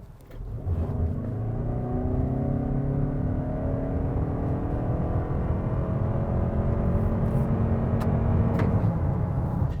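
A Toyota Kluger hybrid SUV accelerates hard from 0 to 100 km/h, its engine note rising steadily in pitch through the run with a continuous low road rumble underneath, close and fairly loud, with no talking.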